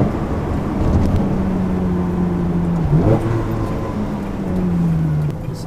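A Ferrari 360 Challenge Stradale engine runs steadily up close at moderate revs, its low hum rising and falling in pitch with a brief blip near the middle, without climbing high.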